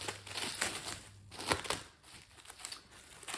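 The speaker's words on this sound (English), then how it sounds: "So then we're gonna unwrap our rested dough." Rested homemade lasagna noodle dough being unwrapped from its wrapping: soft, close crinkling and rustling in uneven bursts, with a couple of sharper crackles, no speech.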